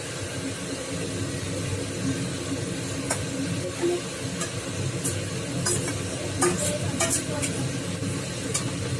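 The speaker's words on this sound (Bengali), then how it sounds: "আলু সয়াবিন মাছ সব দিয়ে দিলাম একটু নাড়াচাড়া করে" Potato, soybean chunks and fish fry in a pan and are stirred, giving a steady low sizzle with scattered scraping clicks from the utensil, fairly faint and without talk.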